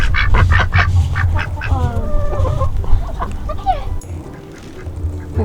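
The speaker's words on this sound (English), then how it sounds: "And here's our ducky babies, who will be mommy and daddy very soon." Backyard ducks quacking near a flock of chickens, several close, loud squawks and quacks overlapping with clucking, with a little background voice.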